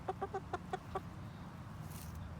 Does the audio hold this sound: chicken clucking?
yes